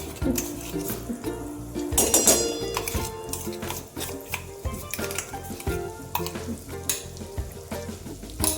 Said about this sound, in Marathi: आपले तेल तापले आहे, मग हे सगळे वाटण टाकून घेणार आहे मी तेलात।